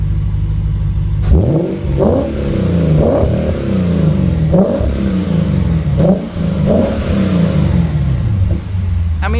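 Revving of a Lexus GSF/RCF V8 fitted with a new aftermarket exhaust, a loud, close deep-toned roar without rasp that rises and falls in about six repeated blips over a steady idle.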